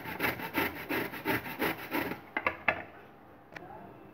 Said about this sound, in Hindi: पहले हम अपनी लौकी को घिस लेंगे